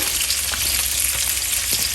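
Pork rinds simmer in green salsa in a home kitchen pot, giving a steady, close bubbling sizzle that runs unbroken throughout with faint stirring pops and no talk.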